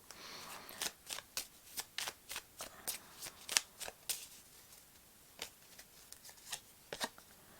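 Oracle cards being shuffled by hand, a quick run of crisp riffling flicks and soft slaps repeating in an uneven rhythm, close and fairly quiet with no talking.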